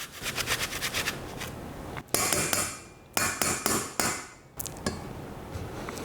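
A series of sharp metallic taps and knocks from a grater tapped against a bowl, irregular and fairly close, with short pauses between bursts of clatter.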